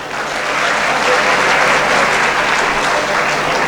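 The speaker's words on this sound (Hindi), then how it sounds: "उनकी टीम के लिए एक बार तालियां बजा दें" Dense, steady applause from a large seated audience at an annual mushaira poetry gathering, loud and continuous throughout with no breaks.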